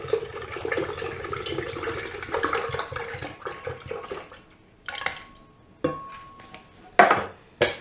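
Evaporated milk pours from a can into a pan in a continuous close liquid stream that thins and breaks into a few splashy glugs and drips as the can empties.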